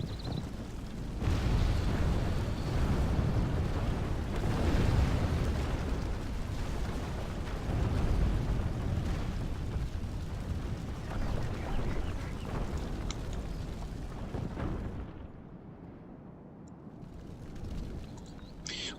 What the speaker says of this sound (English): That tower has been destroyed.